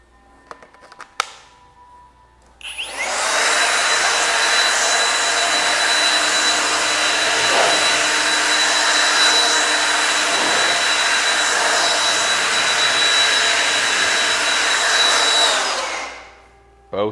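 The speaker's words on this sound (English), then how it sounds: "Let me get the blower going." A blower dries a detailed car after a spray sealant test, a steady loud broadband whoosh running about thirteen seconds before cutting off.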